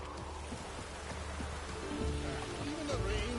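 Steady rain hisses across a game world in The Witcher 3: Wild Hunt, a continuous wash of falling drops with low music and ambient tones underneath, growing slightly louder toward the end.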